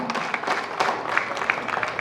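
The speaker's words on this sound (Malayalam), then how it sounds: "ഒരു കൈയടിയോടുകൂടി നമുക്ക് അദ്ദേഹത്തെ സ്വാഗതം ചെയ്യാം" An audience claps at a football tournament prize ceremony held by a local friends' club in Kerala, brief and steady, with voices blended under the applause.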